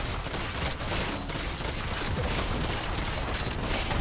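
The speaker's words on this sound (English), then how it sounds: "Red team's turret has been destroyed." A turret is destroyed in the video game League of Legends amid continuous, dense crashing and crackling battle noise, loud and unbroken throughout.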